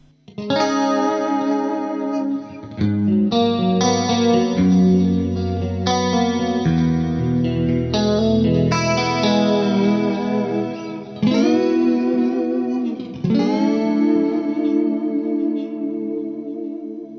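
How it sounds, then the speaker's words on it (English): Chiming electric guitar chords and notes ring out alone, shimmering with a wide, detuned chorus, echoing repeats and a spacious reverb tail. "Let's hear the clean channel with some 80s effects on it."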